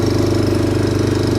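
An outboard boat engine chugs loudly and steadily in a fast, even knocking rhythm while chopping through tough floating plants on a Mekong Delta river near Can Tho, with no voices.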